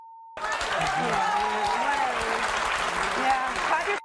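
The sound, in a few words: studio audience clapping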